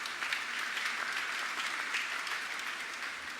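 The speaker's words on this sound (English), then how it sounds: "Let's give the Holy Father a big round of applause" A large crowd applauds Pope Francis at a church gathering, a dense, even sheet of clapping that holds steady throughout, moderately loud and slightly distant, with no voices standing out.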